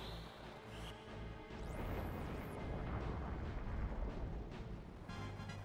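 Fire 2 in Final Fantasy Tactics erupts as a rumbling, roaring burst of flame with a rising magical shimmer, swelling and sustaining loudly for several seconds before easing off, with no talking over it.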